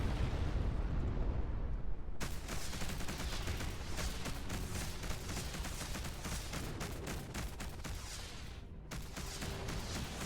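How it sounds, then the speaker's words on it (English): Enemy starship blowing apart under laser fire in a space combat video game, a loud sustained roar of explosions and crackling bursts that kicks in sharply and rumbles on for several seconds, briefly cutting out near the end. "One of the enemy ships has been destroyed."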